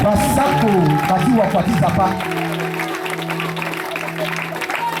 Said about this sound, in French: Applaudissez pour le serviteur.